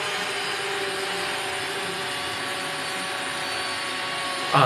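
A BlendJet portable blender runs in one steady, even whir for several seconds as it mixes a drink, with no talking over it.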